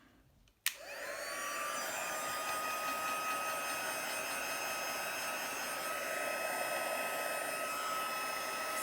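A hot air blower switches on with a sharp click and then runs steadily as it heats an object, giving a loud, continuous whooshing hiss with a high whine and no voices.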